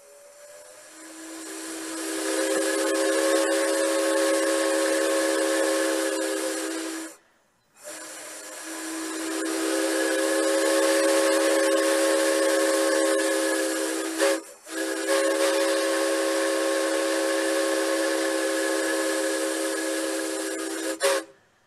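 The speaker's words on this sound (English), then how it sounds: "will blow our recreated 1921 steam whistle. It's the very first time this whistle's been heard in public." A recreated 1921 steam whistle on Locomotive No. 9 of the Mount Tamalpais and Muir Woods Railway sounds three long, chord-like blasts with hissing steam, the first two separated by short gaps, loud and alone.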